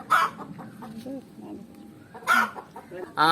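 Chickens in a backyard coop in Jaffna, Sri Lanka cluck in short bursts, with a couple of louder squawks standing out near the microphone and quieter murmuring clucks between them.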